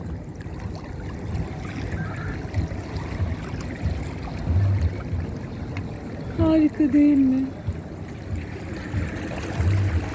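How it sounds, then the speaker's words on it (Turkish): Seawater laps up close at the shore at Florya, Yeşilköy, a steady wash under wind, and someone speaks over it. "tam yakından suyun sesini böyle"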